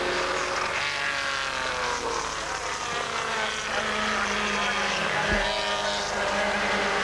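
A Jaguar race car in a SEAC motorsport race roars past on the track, loud and sustained with a roughly even engine drone and a brief low thump near the end.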